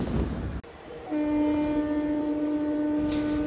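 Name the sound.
Bareilly Prayagraj Sangam Express train passing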